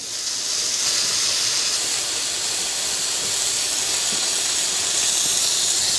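Tri-tip roast searing on a hot plate gives off a loud, steady sizzle, a continuous broadband hiss that holds evenly from start to finish with no talking.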